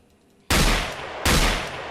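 Two loud, sharp shotgun blasts from the A12 in a modded Fallout 3, fired about three-quarters of a second apart, each with a trailing roar that fades slowly; no voices.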